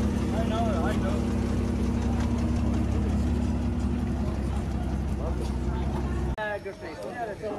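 A parked car's engine idles nearby in a low, steady rumble for several seconds before cutting off abruptly, while people talk over it.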